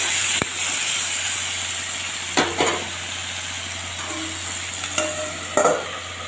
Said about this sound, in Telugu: చూసారా ఆలు ఫ్రై అయిపోయింది